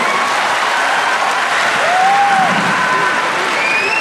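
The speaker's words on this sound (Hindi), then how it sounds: "उनके लिए जोरदार ताली बजनी चाहिए।" Loud, dense applause from a large audience honoring toppers at a coaching institute event, continuous clapping throughout with a faint tonal whistle or squeal rising briefly in the middle.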